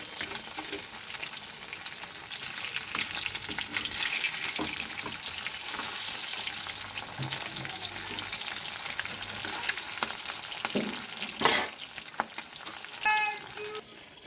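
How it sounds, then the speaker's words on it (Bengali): Fish frying in a pan until crisp, with a continuous close sizzle and some stirring over about fourteen seconds, then a short clatter near the end and no talk. "মাছ ভাজাটা বোধহয় হয়ে এসেছে। একটু আবার মচমচে করে কড়া করে ভেজে দিলেই খাই।"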